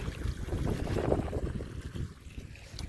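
A well motor on a farm pumps out water in a steady, faint rush of splashing flow, with soft wind noise throughout.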